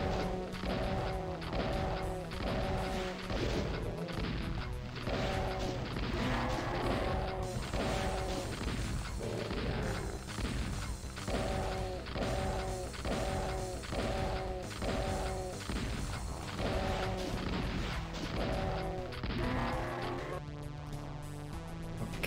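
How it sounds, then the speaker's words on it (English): Shotgun blasts against barons in Doom II, played on map 29 Self-Destruct of STRAIN, land as repeated loud booms under a driving, steadily repeating music track. "Unfortunately, I have to shotgun these barons."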